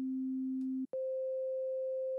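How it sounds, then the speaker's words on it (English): Two pure sine wave tones from a Pioneer DJS-1000 sound one after the other, a lower steady tone for under a second followed by a higher sustained tone, each clean and unwavering with a brief gap between them. "Then I've got a couple of sine waves."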